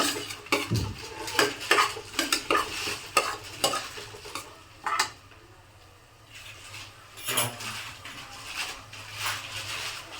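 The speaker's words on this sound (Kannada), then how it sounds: "ಈಗ ಸ್ವಲ್ಪ ಶುಂಠಿ ಬೆಳ್ಳುಳ್ಳಿ ಪೇಸ್ಟನ್ನು ಹಾಕೊಳ್ಳೋಣ ಹಾಕ್ಕೊಂಡು ಸ್ವಲ್ಪ ಫ್ರೈ ಮಾಡೋಣ" Ginger garlic paste fries in a pan for green gram pulao. Lively sizzling comes with repeated metal scraping and clinks from stirring, followed by a quieter, calmer sizzle before the stirring picks up again. No one speaks.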